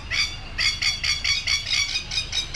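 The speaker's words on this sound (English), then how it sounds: "it's that black and white bird that making all that noise" A black-and-white bird at a zoo squawks loudly and repeatedly, with about eight harsh, shrill calls in a steady rhythm over a low background rumble.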